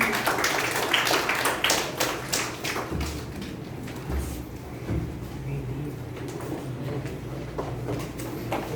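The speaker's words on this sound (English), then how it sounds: "With a round of applause." Applause from an audience welcoming a speaker to the podium at a Toastmasters-style meeting, dense steady clapping throughout, fairly loud and close, with a few scattered louder taps.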